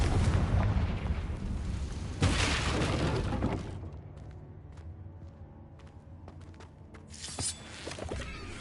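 Confringo fire-blast spell from Hogwarts Legacy exploding in a loud, close burst with a roaring, crackling tail that fades into a lower rumble, followed by a second smaller blast near the end.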